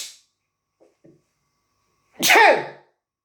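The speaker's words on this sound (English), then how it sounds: "Sorry about that, sneezing down the camera." One sharp, loud sneeze bursts out close to the microphone after a couple of faint small sounds and near silence.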